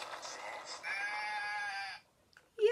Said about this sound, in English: Does anybody know what a sheep says?